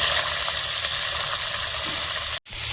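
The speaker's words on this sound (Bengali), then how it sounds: "লবণ আর এক চিমটি হলুদ দিয়ে ভালোভাবে ফুলকপি আলুটা ভেজে নেবো" Cauliflower and potato fry in hot oil with cumin seeds in a kadai, giving a loud, steady, close-up sizzle that continues without a break except for a momentary dropout near the end.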